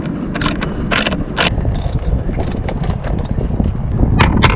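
A boat's windlass winch being tightened, giving a steady mechanical ratcheting and grinding churn that runs continuously throughout, close and fairly loud, with sharp clicking bursts on top.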